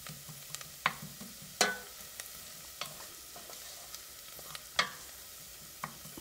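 Mustard-type seeds begin popping in hot oil for a red lentil curry, giving scattered sharp pops and crackles at irregular intervals over a quiet, faint sizzle, close by.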